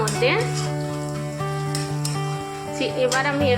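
Chicken pieces tipped into a pan of reddish fried onions for Bengali chicken kasha sizzle loudly up close, with steady music playing throughout.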